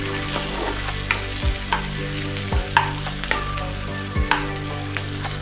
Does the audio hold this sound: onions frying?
yes